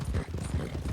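Rapid, rhythmic clip-clop of a Missouri Foxtrotter's hooves trotting in Red Dead Redemption 2 during a winter endurance race, close and steady across the short stretch.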